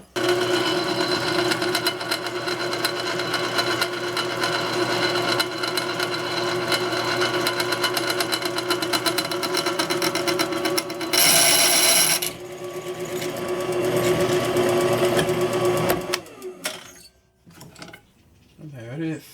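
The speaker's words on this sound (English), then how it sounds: "And now I'll do the lanyard hole, which will be about a 1/4 inch hole." A drill bores a quarter-inch lanyard hole through a handmade knife, a loud, steady motor drone with whine for most of the time, a brief harsher grinding burst near the middle, then the motor winds down and stops toward the end.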